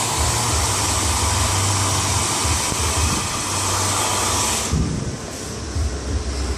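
A Yellow Bird hair dryer blows with a loud, steady whoosh, its tone dropping and softening abruptly near the end as if switched to a lower setting.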